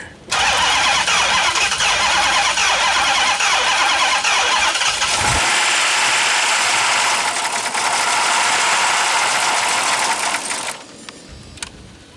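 A Hemi-powered Magnum being revived cranks with a brief starter whir, then catches and runs loud and steady at close range for several seconds before cutting off abruptly.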